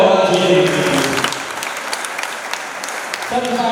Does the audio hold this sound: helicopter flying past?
no